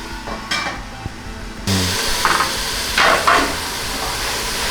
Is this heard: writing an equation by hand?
no